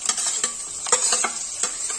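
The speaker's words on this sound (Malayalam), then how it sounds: "ഇനി നമുക്ക് അരിഞ്ഞ് വെച്ച വെണ്ടക്കായ ഇതിലേക്ക് ചേർക്കാം." Chopped okra added to a hot pan with curry leaves in a Kerala kitchen, sizzling steadily while a utensil stirs and scrapes in quick, close strokes.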